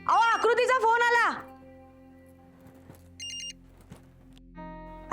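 A telephone rings with an incoming call: a short, bright electronic ringtone burst, then another tone starting near the end, following a stretch of voice at the start.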